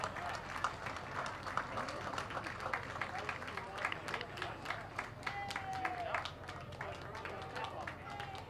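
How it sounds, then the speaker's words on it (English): Spectators lining a town parade route clap for a passing lodge group, with sustained scattered applause, faint and somewhat distant, and a voice briefly rising above it. "Let's give a round of applause for Bennington Elks Lodge"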